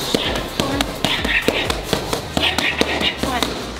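Rapid-fire punches smacking boxing mitts during a beginner mitt drill, a fast steady stream of sharp slaps repeating several times per second, loud and close, with breathing and movement around them.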